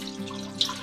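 Water runs into a steamer pot being readied for rava idli, a brief, steady close trickle under a faint background hum.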